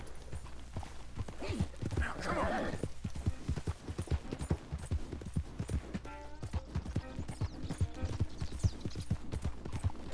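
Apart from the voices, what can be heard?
horse hooves in video game Red Dead Redemption 2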